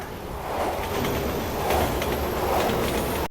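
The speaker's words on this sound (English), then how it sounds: "Train's coming!" An underground subway train in Resident Evil 6 approaches with a rising rumbling rush and faint clattering, growing louder over a few seconds, with no talk.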